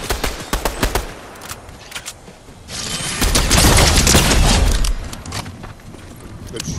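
Video game gunfire, rapid bursts of sharp shots at the start, then a louder sustained volley in the middle and more scattered cracks at the end, mixed with game noise.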